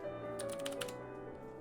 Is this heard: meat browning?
no